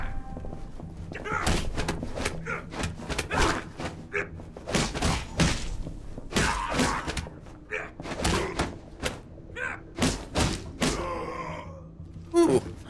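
Fistfight blows in the Alpha Protocol video game, a series of heavy thuds and punches landing in irregular bursts, with grunts and groans mixed in.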